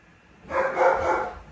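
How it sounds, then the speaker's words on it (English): A pet dog barks in a house during a board-and-train dog training session, a single drawn-out, fairly loud bark-whine lasting about a second, close by with no talking. "Sorry, that's my dog."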